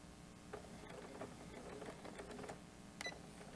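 A sewing machine runs a short back stitch on a fabric water bottle cozy, giving faint, quick mechanical clicking and whirring in a quiet room with no talk.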